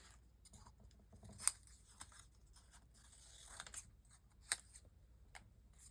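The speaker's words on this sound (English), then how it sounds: "I think I'm going to cut them into strips on their own." Scissors cut printed paper images into strips for an art journal, heard as faint, quiet snips and soft paper rustles with a couple of sharper clicks against a hushed room background.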